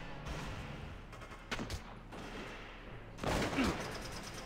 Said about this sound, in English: Long-range sniper shots.